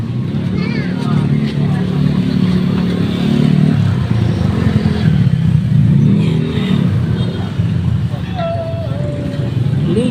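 Several motorcycle engines rumble and rev nearby amid a busy crowd at a terminal during a basketball league event, with people chattering underneath the traffic noise.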